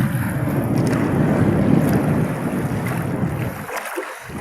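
Small boat on open water with its engine out of action, moved only by paddling in strong wind; steady rushing wind and water noise runs throughout, loud and close, easing briefly near the end.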